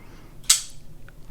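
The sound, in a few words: folding knife blade flicking open on detent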